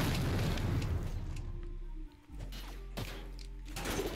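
A bomb going off in the video game Jailbird: a loud, dense, rumbling blast that fills the opening seconds, then fades into a quieter roar with smaller thuds following.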